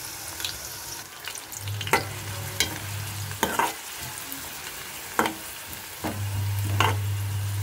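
Curry leaves, onion and green chilli fry in hot oil for a capsicum, potato and tomato curry, a low sizzle punctuated by sharp spatula scrapes and a steady hum from the stove.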